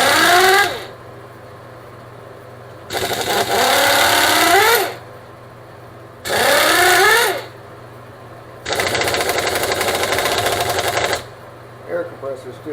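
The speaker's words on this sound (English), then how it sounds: "Air compressor still building." An air compressor runs during a jet ski engine teardown of a yard-sale Sea-Doo GS, giving a steady low hum broken by several loud, rattling mechanical bursts a few seconds apart, close to the microphone.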